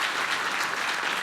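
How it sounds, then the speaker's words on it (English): A crowd at the Weslaco State of the City address applauds the mayor, a dense, continuous burst of clapping filling the whole moment. "May I have an applause?"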